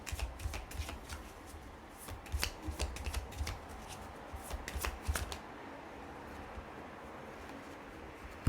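A deck of tarot cards is shuffled close by in quick riffling bursts, a run of crisp flutters and slaps over the first five seconds, then quiet handling with no one talking.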